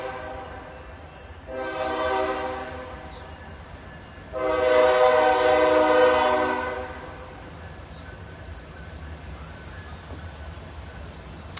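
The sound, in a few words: passing train sounding its horn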